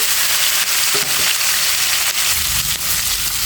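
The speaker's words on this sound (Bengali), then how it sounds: "এর ভিতর কিছুটা কাঁচামরিচ আর আলু এটাও ভেজে নেব" Pangas fish heads frying with potatoes and green chilies in hot oil, giving a loud, steady sizzle throughout with a few brief stirring clatters, and no voices.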